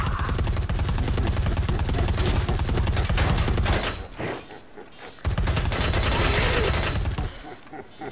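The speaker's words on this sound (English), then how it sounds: "sounds like a bomb." Loud, continuous gunfire and blasts in the video game Predator Hunting Grounds, dense rapid shots with a brief lull midway before another heavy burst, close and booming.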